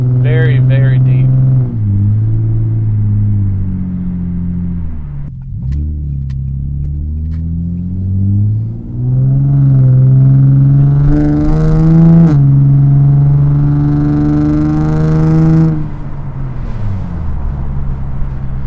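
Nissan G35 sedan with a Z1 Touring exhaust and a shift-kit automatic driving, its deep rumbling exhaust rising and falling through several revving gear pulls and quick shifts, loud and close, with people talking over it.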